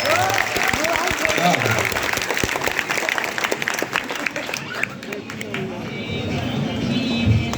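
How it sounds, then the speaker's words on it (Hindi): Audience clapping at an outdoor motivational talk at Kotwali Chowk, Bettiah, a steady crowd applause with some babble, fairly loud throughout. "अपनी माँ के लिए जोरदार ताली बजा दीजिए"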